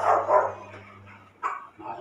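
A puppy giving a couple of close, high yipping barks, followed by a softer short yelp after a brief pause.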